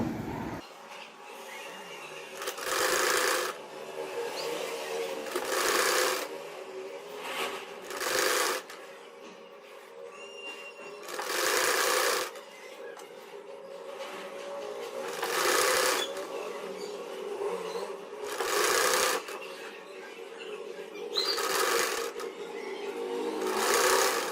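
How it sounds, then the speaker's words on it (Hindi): Sewing machine stitching a baby frock, running in repeated bursts of rapid whirring separated by short quiet pauses, close and moderately loud. "चलिए अब हम सिलाई लगाने लगे।"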